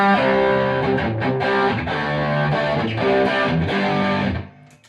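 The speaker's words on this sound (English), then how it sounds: "Bit of distortion now." Electric guitar played through a distortion effect on a Blackstar Amped2 controlled via MIDI, running into a Fender amp. Sustained, saturated chords ring out loud and thick, then cut off and fade near the end.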